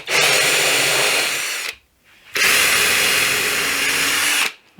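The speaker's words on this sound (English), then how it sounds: "I'll pre-drill some holes and drive some screws and countersink some screws" A power drill pre-drills screw holes in wood while building a table saw crosscut sled, two loud close bursts of steady whirring separated by a short pause, no voices.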